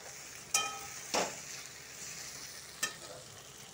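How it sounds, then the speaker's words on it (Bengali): Mushroom stir-fried with spice paste and ginger paste sizzles softly and steadily, broken by three or four sharp scraping clicks of a spatula against the pan, with no talking. "মাশরুমটা ভালো করে মশলার সাথে ভাজতে লাগবে।"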